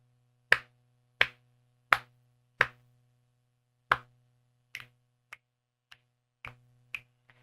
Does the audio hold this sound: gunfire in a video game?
no